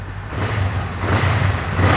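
A 2023 Honda Rebel 500 Bobber motorcycle with an aftermarket exhaust idles loudly up close, then swells in a quick rev before settling back.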